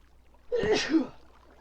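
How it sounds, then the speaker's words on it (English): A single sharp sneeze close to the microphone, a quick intake followed by a burst, then quiet. "Pardon me, I have to sneeze."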